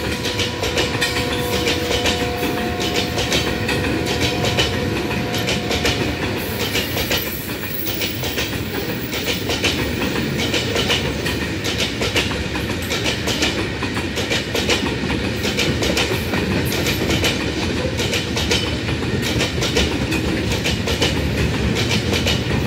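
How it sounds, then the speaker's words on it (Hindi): A freight train hauling wagons passes along the up line track at Drigh Road station in Karachi, a steady loud rumble with continuous clickety-clack of wheels over rail joints and a brief faint squeal, close by throughout. "माल बरदार गाड़ियाँ यानी फ्रेट ट्रेन अपलाइन ट्रैक से GU409028TR34 कोचिस को लेकर रवाना हो रही थी।"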